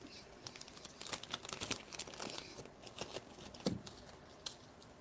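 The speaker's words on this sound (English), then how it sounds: "And plastic bags." Plastic bags being handled in a workbench setting during a drone quadcopter build, giving a close, irregular run of crinkling and rustling bursts with sharper crackles scattered through, no voices over it.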